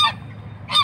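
Geese give two short, loud honks, one at the start and one near the end, separated by a brief quiet gap with faint low background noise.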